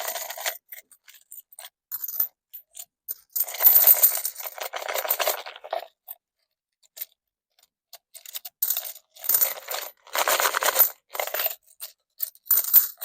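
Coins clink and rattle in bursts as coin jars are emptied, close metallic jingling that comes in irregular clusters separated by short silences.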